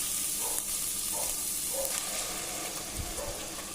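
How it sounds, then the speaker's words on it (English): Ginger garlic paste and a green ground masala with fresh coriander saute in oil for a chicken kabab gravy, giving a soft, steady sizzle and hiss close by, with no talking. "So I'm going to saute all this."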